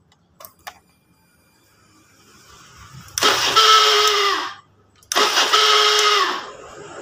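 A fuel-injected motorcycle's electric starter cranks the engine in two separate bursts of a few seconds each, with a short pause between them. The engine does not catch, and a couple of small clicks come just before.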